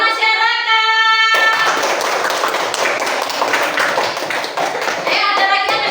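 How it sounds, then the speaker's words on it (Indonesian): Children in a third-grade classroom clap their hands in a loud, close burst of applause lasting about four seconds, with a sustained tonal sound heard just before and after. "Kasih tepuk masyarakat."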